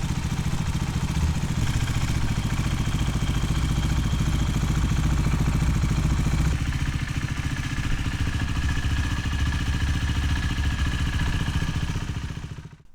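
A KTM Duke motorcycle engine idles steadily after an oil change, a loud, even mechanical running drone with clattery valve noise, close and continuous before it cuts off at the very end.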